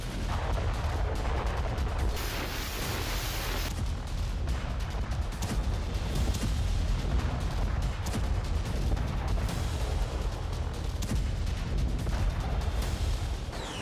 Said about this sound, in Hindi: रूस ने पूरी आर्टिलरी खोल दी।